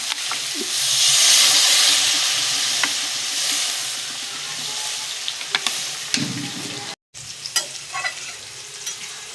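Water poured into a hot pan of braising vegetables, thod and pumpkin, sets off a loud hissing surge of steam that settles into a steady sizzle, followed by a few utensil clinks and stirring scrapes.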